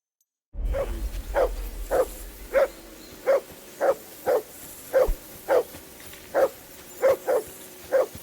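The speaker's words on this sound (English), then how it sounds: "Jesus, Henry, that barking's driving me nuts." A dog barks repeatedly at a steady pace in the video game Kingdom Come: Deliverance 2, about a dozen sharp, even barks over a low hum, fairly close and with no talking.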